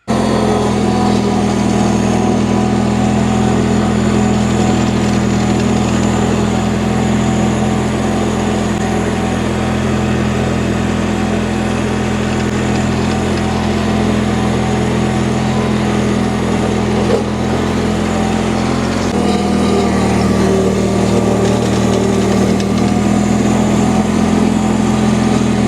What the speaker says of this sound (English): let me get my old vintage tractor out, my vintage garden tractor, and take you up to the mulch pile